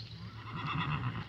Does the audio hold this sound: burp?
no